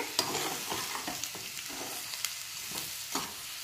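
Boiled cassava being stirred in a pan, with soft repeated scraping strokes over a quiet sizzle, fairly faint and close.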